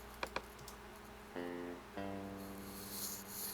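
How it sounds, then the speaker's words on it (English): A thin, dry clavinet keyboard sample with all effects switched off plays a few short plucky notes, clear and close, after a couple of faint clicks, with no other sound around it. "Basically like a little thin little clavinet sound"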